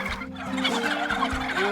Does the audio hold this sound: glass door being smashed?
no